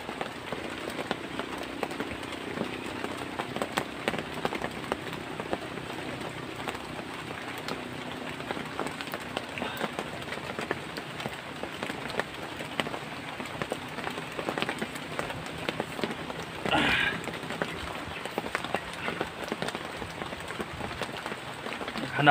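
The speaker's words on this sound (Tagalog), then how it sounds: "Tuloy pa ulan" Steady rain patters on a surface throughout, a constant soft hiss with scattered drops, no voices heard.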